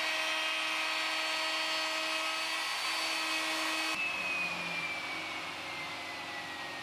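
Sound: router with pattern bit trimming wood along jig

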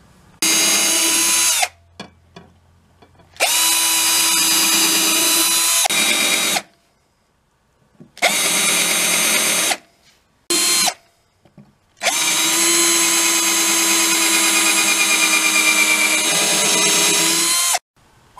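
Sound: power drill drilling and countersinking pilot holes in wood

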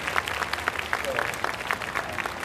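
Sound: audience applause thanking the stall owners

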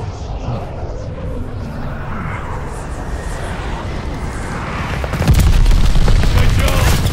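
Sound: bomb explosions in the Call of Duty: Vanguard video game

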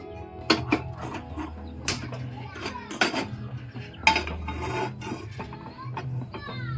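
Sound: tawa pan placed on gas stove

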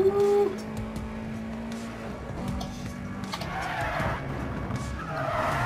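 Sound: car tires skidding in video game Need For Speed World

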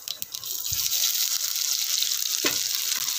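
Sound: cumin seeds sizzling in hot oil

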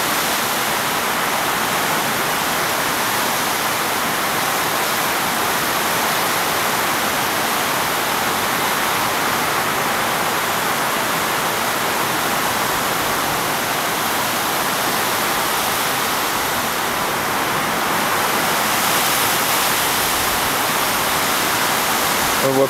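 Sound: torrential rain downpour in Tahiti

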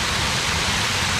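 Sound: waterfall

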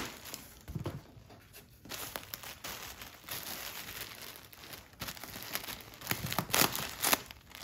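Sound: crinkling insulation packaging in a shipping box

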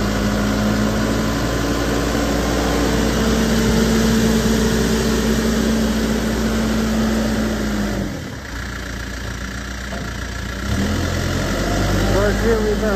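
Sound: 2009 Case 580SM Plus II backhoe engine running in gear

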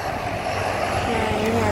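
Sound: airplane landing on runway 6R at Soekarno-Hatta airport

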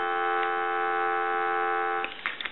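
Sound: telephone dial tone from Western Electric Princess telephone

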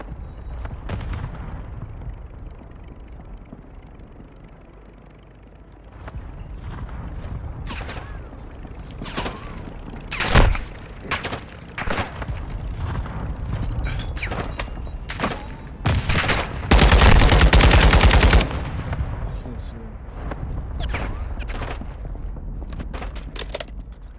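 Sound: gunshots in a video game

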